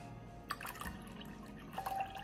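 Strained lemon juice is poured into a water solution, giving a faint, brief trickle with a few soft drips and splashes in a quiet room.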